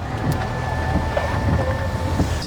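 Heavy rain pours steadily in a broad, constant wash with wind noise, heard from a parked car during a downpour, with no talking.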